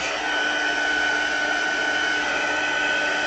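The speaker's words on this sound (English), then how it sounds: "speed up the process with a heating gun" Steady, loud blowing whir of a heat gun running continuously, drying wet tissue paper watercolor, with no breaks in its even airflow hiss.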